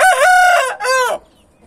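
A rooster, neither young nor old, crows loudly and close, two drawn-out crowing calls in quick succession, then quiet.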